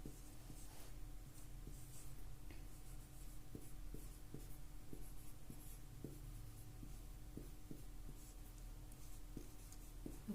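Pen or chalk writing out a quadratic equation during a maths lesson, a steady run of short scratchy strokes repeating through the whole span at moderate level, close up with no talk.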